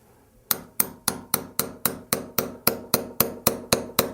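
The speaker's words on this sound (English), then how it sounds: "It's going to take a little bit of hammering" A hammer strikes metal about thirteen times in a steady, even rhythm, driving a pin out of a Henry rifle extractor; each blow is sharp and close, with no talk.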